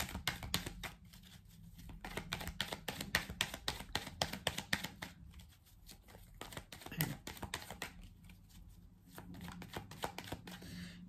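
Tarot cards being shuffled for a reading, quiet continuous riffling and flicking of the deck in close, rapid bursts with short pauses between them, with no voice over it.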